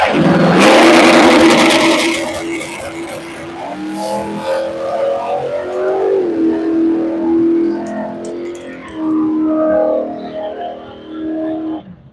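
A Chevelle in the left lane and a mid-greasy Chevy C10 in the right launch down a drag strip, engines roaring loud at the start, then a sustained revving pull that fades and shifts as both cars run away down the track.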